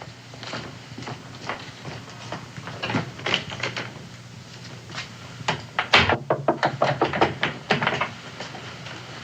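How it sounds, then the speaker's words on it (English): Knocking on a wooden house door at night in a 1960s frontier Western drama, a series of sharp raps near the end, loud and close, with scattered knocks and room sounds earlier. "Answer the door, Sally."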